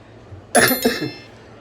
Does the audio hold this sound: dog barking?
no